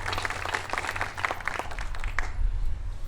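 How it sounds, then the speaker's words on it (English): Audience applause for executive leaders at a Lansing public event, a steady wash of clapping from a crowd lasting a few seconds and fading out at the end, over a low background hum. "give our executive leaders a round of applause for all of their wonderful work"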